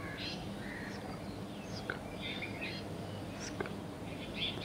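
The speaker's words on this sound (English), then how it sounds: "birds chirping" Birds chirping in a sunlit forest at dawn, several high calls and trills scattered over a steady broad background hiss, moderately faint and distant.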